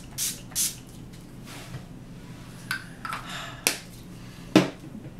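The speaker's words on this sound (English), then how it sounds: "So the last step is my all-nighter setting spray. So we're just gonna spritz this on." Setting spray misted onto a face: several short, soft hissing spritzes spaced irregularly, with a few sharper clicks from the pump nozzle, close and quiet.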